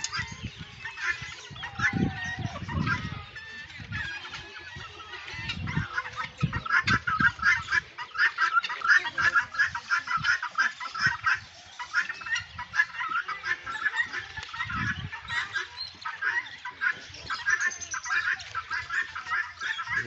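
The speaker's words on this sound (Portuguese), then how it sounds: "As galinhas aqui na fazendinha da Unimar." Chickens on a small farm cluck steadily and close by, a busy flock chattering throughout, with occasional faint talk and a voice in the background.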